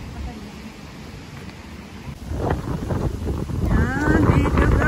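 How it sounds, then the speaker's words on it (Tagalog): Wind rushes against the microphone in a steady rumble, growing stronger partway through as a person begins talking over it. "ang lakas ng hangin."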